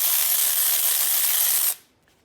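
An Aoben cordless ratchet fitted with a Husky bit runs as a loud steady whirring hiss for under two seconds, then cuts off abruptly into near silence.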